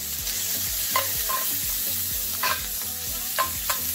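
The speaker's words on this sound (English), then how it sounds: "So let's add the butter and the garlic." Butter and garlic sizzle loudly in a hot pan for an omurice, a dense continuous frying crackle close by, broken by periodic scrapes and clacks of stirring.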